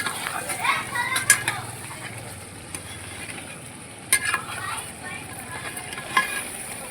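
A spoon stirs chicken curry in a pot, knocking against the metal in a few sharp clinks spread a couple of seconds apart over a soft, continuous simmering hiss.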